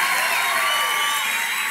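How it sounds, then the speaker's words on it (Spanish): A church congregation applauding and cheering, a dense continuous wash of clapping and voices with a few whoops, loud and sustained throughout. "A él también tiene que darle ese aplauso"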